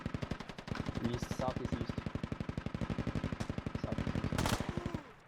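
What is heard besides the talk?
machine gun burst fire in the video game Squad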